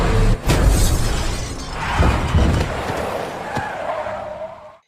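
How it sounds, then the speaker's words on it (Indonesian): A truck strikes a courier unloading goods: a loud sustained crash and skid with a sharp impact, scraping and crunching debris, then a lingering rumble that fades at the end, with no speech. "tiba-tiba saja sebuah truk tak sengaja menabrak dirinya."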